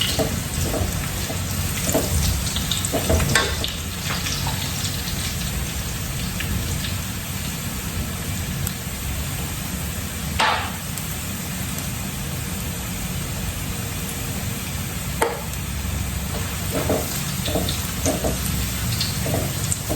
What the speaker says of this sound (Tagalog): Hintayin natin pumula yung bawang. Yan, malapit na siyang pumula.